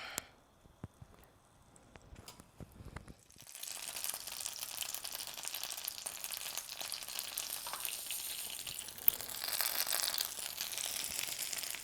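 Stuffed French toast with jam frying in hot oil, a steady close sizzle and crackle that starts a few seconds in after some quiet clinks and keeps going loudly with no talk.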